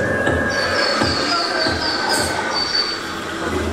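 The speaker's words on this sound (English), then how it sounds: "Train." A train in Japan rolls past with a steady low rumble and high, drawn-out metallic wheel squeals ringing over it.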